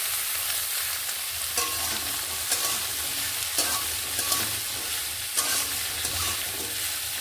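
Mixed vegetables tossed and stirred in a pan with spices tempered in hot oil, a loud constant frying sizzle with repeated rhythmic spatula scrapes every second or so, no speech.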